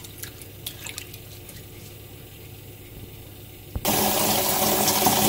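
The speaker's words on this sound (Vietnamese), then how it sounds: "Khi mà rửa rau má thì các bạn giữ mạnh để cho nó rời hết cái phần đất ra." Fresh pennywort leaves are washed by hand in water, with light drips and splashes at first, then a sudden loud gush of running water that continues steadily.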